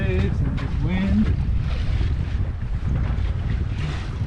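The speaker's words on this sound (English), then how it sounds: "There's some waves and this wind." A sailboat at sea in rough water, with a constant roar of wind buffeting the microphone and waves washing against the hull. A voice speaks briefly at the start.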